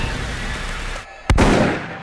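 A single sharp gunshot cracks out near the end after a stretch of rumbling outdoor noise, loud and abrupt.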